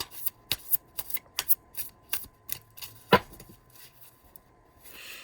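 A deck of tarot and oracle cards being shuffled by hand, a rapid run of crisp riffling snaps with one sharper slap near the middle, close and clear with no talking.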